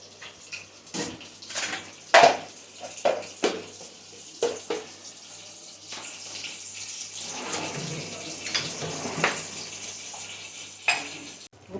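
Tap water runs and splashes while a butter container is scrubbed at a kitchen sink, with intermittent clinks and scraping bursts, fairly close and moderately loud, no talking.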